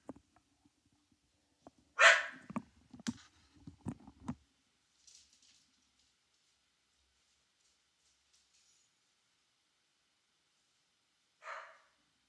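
A dog barks close by in a quick cluster of sharp barks, then goes quiet before a single bark returns a few seconds later.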